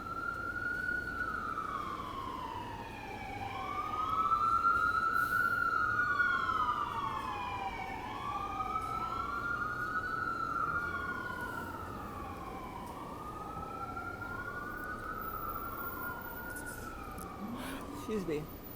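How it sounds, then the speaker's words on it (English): Emergency sirens wail in rising and falling cycles, overlapping as vehicles pass at a moderate distance, with traffic rumble beneath. "Let the sirens pass."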